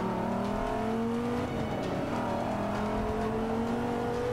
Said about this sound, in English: The sound of the engine is just insane.